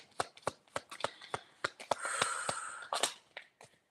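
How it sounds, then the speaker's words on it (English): A deck of cards being shuffled for a card reading: quick riffling clicks and taps, then a dense rustling cascade of cards in the middle, close and clear with no talking. "while I was shuffling, there was like little jumpers"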